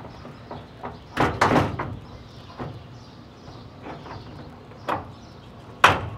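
Knocks and thuds as a Ktuned lightweight door is fitted back onto a Honda Civic: a cluster of bumps, a couple of isolated clunks, then a sharper knock at the end, close-up with no talking.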